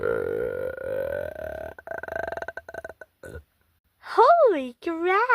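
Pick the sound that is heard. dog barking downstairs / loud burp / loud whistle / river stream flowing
loud burp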